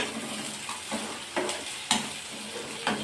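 Vada curry ingredients fry in a pan for Nellore-style vada pulusu, a steady close sizzle broken by four or five louder scraping stirs spaced about half a second apart.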